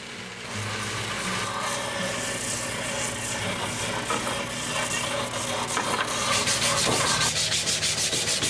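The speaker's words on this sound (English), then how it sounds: "the next step will be to sand down these walking sticks" A wooden walking stick is sanded by hand, giving a continuous close abrasive rubbing made of rapid back-and-forth strokes that grow faster and more rhythmic toward the end, with no talking.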